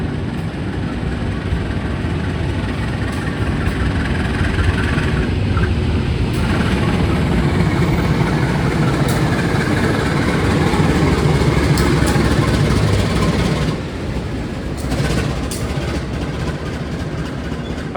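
The Fajar Utama Solo train passes close by, a steady loud rumble of wheels on rails and engine noise that runs continuously for the whole stretch with no voices.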